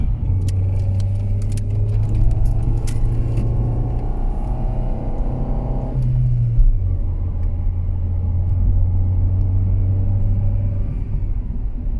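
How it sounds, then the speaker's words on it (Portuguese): A steady low engine hum and rumble fill a Rover 400 interior with sound-deadened doors, with a brief shift in tone midway and no talking. "se ouve um bocadinho mais aquele zumbido típico do motor"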